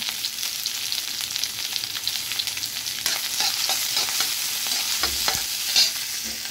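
Green chillies and onion fry in hot oil for a Yippee noodle dish. The sizzle is constant and close, and repeated spatula strokes scrape and tap through it with no talking.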